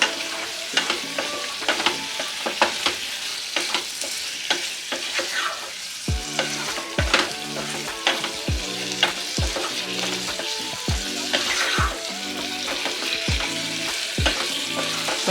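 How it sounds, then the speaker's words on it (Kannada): About a quarter kilo of boiled potatoes frying in masala for aloo masala, a loud close sizzle with frequent rhythmic scraping and stirring strokes throughout, no talking. "ಆಲೂಗಡ್ಡೆನ ಹಾಕಿ 1 ನಿಮಿಷದಷ್ಟು ನಾವು ಫ್ರೈ ಮಾಡಿಕೊಂಡ್ರೆ ಸಾಕು"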